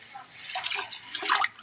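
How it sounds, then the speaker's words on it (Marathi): Water is poured over rice in a bowl for washing, a short close splashing and trickling burst that rises and then stops abruptly. "पाणी ओतून 2 ते 3 वेळा स्वच्छ चोळून असे आपल्याला धुवून घ्यायचे"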